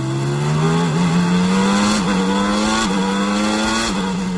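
1993 Formula 1 race cars pulling out of the pit lane: a loud, high-pitched engine wail rising steadily, with brief dips at each gear change, close and alone.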